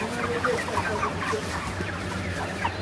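About six hundred chickens on a poultry farm cluck in a soft, scattered chorus at moderate distance, with a low steady hum beneath.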